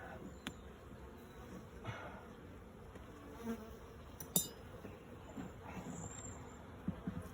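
Honey bees hum faintly and steadily around the frames of a sparsely populated start-up colony during a hive inspection, with a few soft clicks and knocks of equipment.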